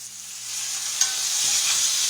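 Green tomato slices frying in a black iron skillet give a steady, close hiss of oil with soft stirring and a brief clink partway through, no voices.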